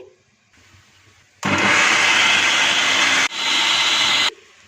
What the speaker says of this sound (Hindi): इसे भी चॉपर मशीन में डाल देंगे।